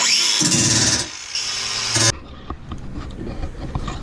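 A power tool grinds down a metal part into sparks, a loud harsh whine starting abruptly, shifting pitch as pressure changes, then cutting off to quiet workshop rattles and handling noise.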